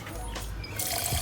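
Water is poured and stirred into water-based printing ink, giving a short, soft splashy trickle with a brighter wet swirl near the end, fairly close and steady.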